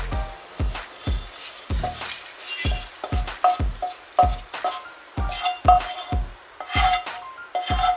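A spoon scrapes and knocks against a pan in a steady series of strokes as cooked food is scooped out and moved into another pan, with faint sizzling between.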